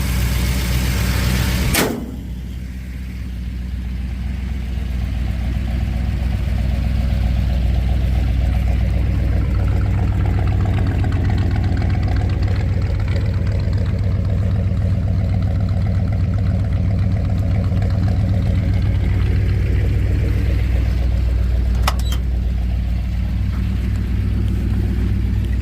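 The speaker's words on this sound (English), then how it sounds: "Idling about 950, runs about 200 degrees." A 1967 Ford F250 Highboy with a freshly replaced carburetor idles steadily at close range, a low smooth rumble. It is broken by a sharp knock near the start and a faint click near the end, with no talking.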